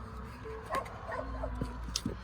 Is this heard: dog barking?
yes